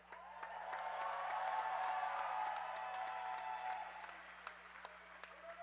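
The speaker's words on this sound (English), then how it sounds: "give it up for all of our volunteers who make all this possible" A roller derby crowd applauds and cheers for the event's volunteers, with dense clapping that swells and holds for several seconds, then thins to scattered claps.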